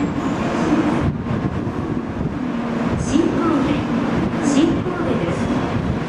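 An N700 series Shinkansen, set S14 running as Sakura 559 to Kagoshima-Chuo, arrives at Shin-Kobe station with a loud, steady rumbling roar and a voice talking over it.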